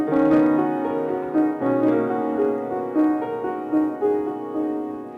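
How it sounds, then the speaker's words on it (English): A six-note pentatonic riff forms an eerie musical theme, the short melodic motif repeating over sustained tones for about five seconds with no voices. "I created a six-note riff off of the pentatonic scale as a motif to show this eerie effect"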